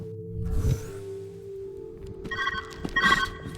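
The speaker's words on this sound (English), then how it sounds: "Where's that ringing coming from?" A telephone-like ringing in the puzzle video game Viewfinder, with a low hum early on and then a couple of bright, repeated ring bursts near the end, moderately loud.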